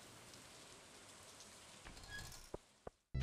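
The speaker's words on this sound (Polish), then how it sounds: "Ej, ja słyszę deszcz." Rain falls in the farming video game Stardew Valley, a faint steady patter that swells slightly before a few sharp clicks and a louder thud at the end.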